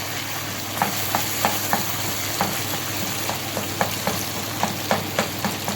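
Chicken karahi with softened tomatoes is fried and stirred in a pan over a loud, constant sizzle, with regular light clicks of a spatula against the pot, close up and with no talking.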